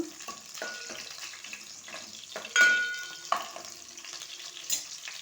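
Green chillies fry in oil for a chicken curry, a soft, close sizzle with occasional stirring clinks and scrapes.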